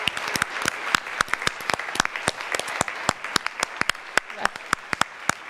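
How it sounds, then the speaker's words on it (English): Applause from the audience at an animal-welfare conference, a brisk run of distinct sharp claps spread across the room that sounds like a smallish crowd, moderately loud and steady throughout. "Give them a big round of applause."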